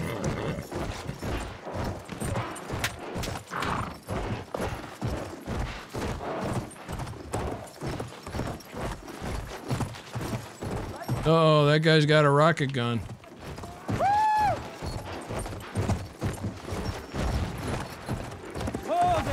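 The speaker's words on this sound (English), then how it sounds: "Come on, horse." A horse gallops in the World War II video game Battlefield V, giving rapid rhythmic hoofbeats throughout, mixed with gunfire, a mechanical whirring burst and game effects while a player talks over them.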